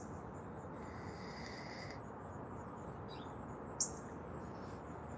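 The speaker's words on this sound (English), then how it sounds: "You hear it chirping? That's a redbird." A redbird (cardinal) at a bird feeder gives a faint, brief chirp over a steady outdoor hiss, with a few thin, quiet tonal calls drifting in the distance.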